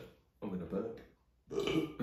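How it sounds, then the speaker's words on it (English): Two separate burps from a man tasting bramble gummies at a home table, each loud and close, with a short pause between them and no other sound. "I'm going to burp."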